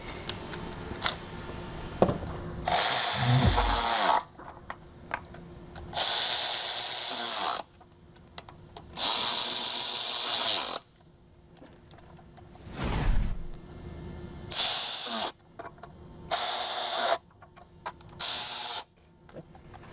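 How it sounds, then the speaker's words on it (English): A ratchet tightens six factory 8mm-head bolts on the intake of a 2018+ Mustang GT during an intake adapter install, in repeated close bursts of fast clicking separated by short pauses. "Okay, now we can tighten the 6 factory 8mm headed bolts."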